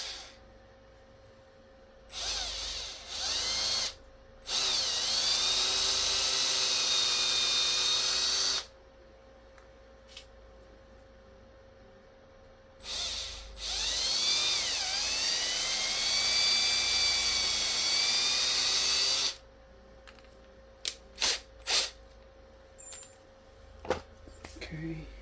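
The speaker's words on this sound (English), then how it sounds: "So this is the smallest drill bit I can find. Can drill through half the middle." A tiny bit in a small electric drill whines loudly through fishing tackle in two long bursts of several seconds each, the pitch sagging as it bites and then steadying, separated by quiet pauses and followed by scattered clicks and handling noises.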